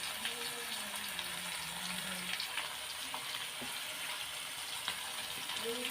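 Potatoes fry in a pan seasoned with turmeric and salt, giving a steady broadband sizzle throughout, with a faint voice murmuring underneath.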